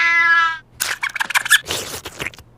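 A part-cat, part-mouse creature gives a single clear, loud meow up close, then a jumble of short squeaky mews and chirps follows in quick bursts.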